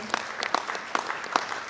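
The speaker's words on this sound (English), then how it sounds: "Continue clapping tafadhali." A career day audience keeps clapping for a visiting ecotoxicology professor: a brief, moderate patter of scattered claps with a few louder hand strikes.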